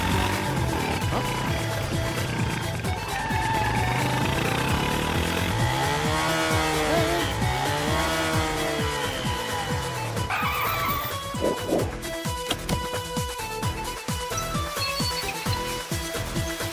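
Motorcycle engine noise roars through a film fight scene, loud and continuous, with revving, tire squeals and skidding. Sharp impact hits and crashes break in near the end.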